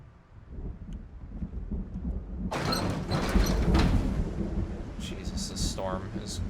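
A thunderstorm in the video game Project Zomboid, with a low rumbling roll of thunder building and swelling over steady rain noise, loud and sustained.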